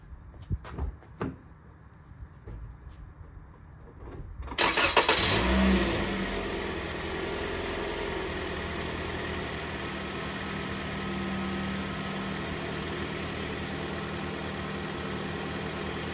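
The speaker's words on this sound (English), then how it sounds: "All right, the engine's running." A 2019 Toyota Corolla engine cranks briefly, catches and settles into a steady idle that hums on without interruption.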